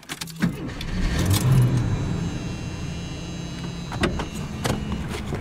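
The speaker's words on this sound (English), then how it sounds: "I'm going to start the car again" Keys jangle, then a car engine cranks and settles into a steady idle, with a brief electric whine near the start. A few sharp clicks and rattles are heard up close inside the cabin.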